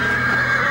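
A horse named Storm gives a loud, close, sustained whinny that fills the brief moment.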